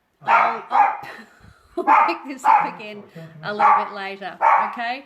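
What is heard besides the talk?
dog barking excitedly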